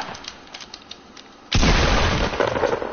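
Gunfire erupts suddenly partway through: sparse faint taps give way to a loud, dense, sustained roar of shots and blasts that continues to the end.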